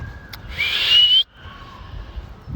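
A person whistling to call a pet bird in a tree outdoors, one clear rising whistle lasting about half a second and then a sustained steady tone, loud and close over a low background hum, with no talking.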